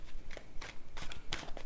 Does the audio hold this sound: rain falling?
no